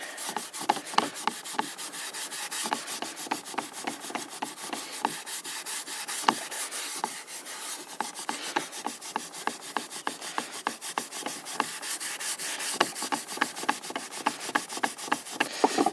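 Steel wool rubs along the grain of an old wooden spinning wheel during restoration, producing rapid, regular scratchy strokes that stay close and steady with no talk.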